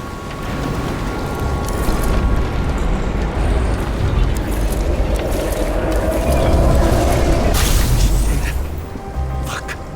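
Explosion in the video game Nobody Wants To Die, heard as a deep, rumbling, sustained roar with crackling debris that swells midway and then settles into a lower rumble.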